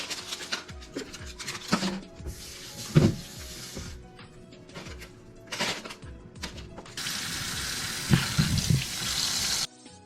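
Chili peppers being washed in a kitchen sink under running water: bursts of tap flow with rubbing and clattering, a longer steady stream near the end, close and fairly quiet, no talk.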